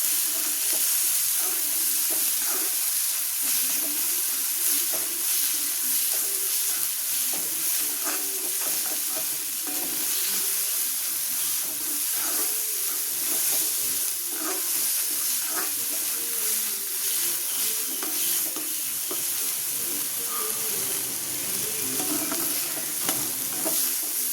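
Tomatoes cooking in a pan with salt and turmeric for an egg thokku, stirred continuously, giving a steady close sizzle with scraping spoon strokes throughout, no talking.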